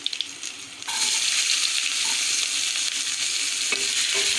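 Chopped onion and crushed garlic frying in a pan, starting with a few light clicks before a loud, steady sizzle that continues throughout, with occasional stirring scrapes.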